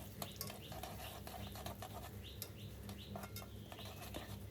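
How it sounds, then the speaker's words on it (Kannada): Cumin, pepper and split moong dal being stirred and fried in a pan for temple-style kara pongal, a steady low sizzle with scraping clinks of a spoon against the metal, no voices. "ಸ್ವಲ್ಪ ಚೆನ್ನಾಗಿ 2 ಮಿನಿಟ್ಸ್ ಫ್ರೈ ಮಾಡಿ"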